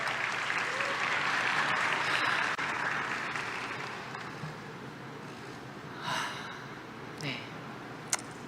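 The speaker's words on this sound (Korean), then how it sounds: "큰 박수로 맞아주시기 바랍니다." Warm applause from a forum audience at the World Knowledge Forum welcomes a volleyball player to speak: dense clapping that fades out, followed by quieter room noise with a few breaths and small sounds.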